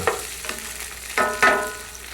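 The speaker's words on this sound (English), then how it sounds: "So I'm going to pan fry my tofu chunks now until they go golden coloured" Tofu chunks pan-fry in oil with a continuous close sizzle, while a spoon stirs them with a few distinct scrapes and knocks over two seconds.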